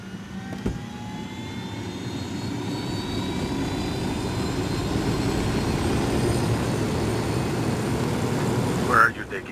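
Steady engine drone of a piloted aircraft in a first-person modded video game, a continuous broadband roar with faint rising tones, lasting throughout and ending in a brief louder swell.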